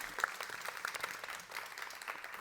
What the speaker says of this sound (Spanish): Y me aplaudo yo misma